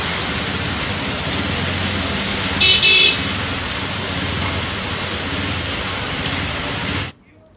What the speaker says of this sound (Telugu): కార్వాన్ ఘాట్, చంపాపేట ప్రాంతాల్లోనూ వర్షం కురుస్తుంది.